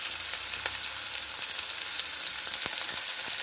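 Chopped onion and green chilli frying in a pan, a steady close crackling sizzle throughout with occasional light clinks from stirring, no talking.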